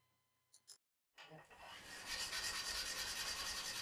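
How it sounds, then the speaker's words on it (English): A medium-grade whetstone rubs back and forth across the top face of a worn South Bend 13 lathe slideway. After a couple of faint taps and a brief silence, a steady, close, gritty rasping builds and continues to the end. "Using the whetstone this way was very efficient at removing the very small imperfections on the top face."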